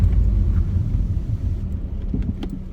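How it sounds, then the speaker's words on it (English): A 2000 Toyota Celica GT four-cylinder car rolls over a speed bump, a steady low engine and road rumble inside the cabin with a couple of faint thumps and rattles near the end. "Got a speed bump right here."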